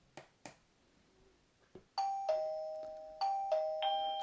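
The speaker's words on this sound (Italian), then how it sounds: "il campanellino, questo qui da tenere in casa" The indoor chime unit of a Doorbell J10 video doorbell rings, sounding a clear two-tone ding-dong melody of sustained bell notes after a few soft clicks, close and fairly quiet.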